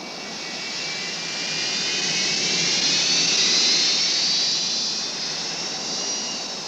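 Steady, loud, continuous roar of airliner jet engines at a cruising altitude of 31,000 feet, swelling slightly midway, with no voices.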